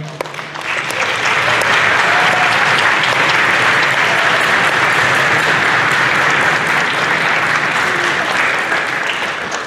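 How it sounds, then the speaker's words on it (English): Loud, sustained applause from a concert audience at a middle school honors concert, a dense wash of clapping that swells in and holds steady for several seconds. "a round of applause for your parents and family, everybody out there supporting you"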